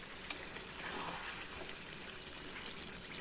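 Fried onions (beresta) stirred into mutton biryani in a pot give a soft, close frying hiss with faint scraping and a sharp clink near the start.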